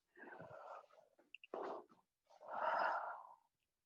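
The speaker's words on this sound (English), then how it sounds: "Excuse me for breathing dramatically." A person breathes loudly and theatrically during a breathing exercise: several long, heavy, close inhales and exhales with short pauses between them, the last one fullest and loudest.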